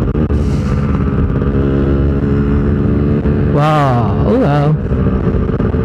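Motorcycles on a night group ride, including a Kawasaki ZX25R, a Honda CBR150R and a bored-up Yamaha Vixion, rumble loudly with steady engine drone and wind noise close to the rider's microphone, while a man briefly exclaims near the end.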